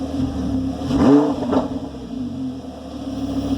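Lamborghini Gallardo LP560 with Akrapovic valved exhaust sitting cold at idle, a steady low engine drone broken by one quick rev that rises and falls, then settles back to idle, nearby and alone.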